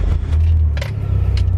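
A 1998 Mitsubishi Lancer Evo 5 GSR with a 4G63 engine starts up, a brief cranking and low engine rumble close by, with a keys-like jingle near the start.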